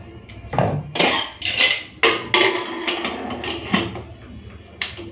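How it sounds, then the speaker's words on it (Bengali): A metal lid is fitted onto a pressure cooker holding eggs and a splash of vinegar for boiling, producing a series of sharp clanks and scrapes at close range, about eight distinct metallic hits. "এরপর ঢাকা লাগিয়ে দেবো"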